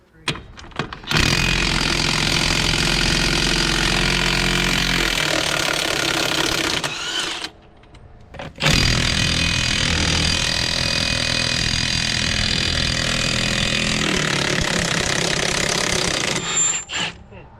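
Milwaukee 2863-20 half-inch high-torque impact wrench hammering on wheel studs, a loud, dense rattling burst of about six seconds, a brief drop, then another sustained run of nearly eight seconds.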